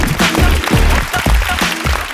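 A television audience at a Malayalam comedy show claps loudly for a dance team from Kannur, dense close applause with a few rhythmic surges.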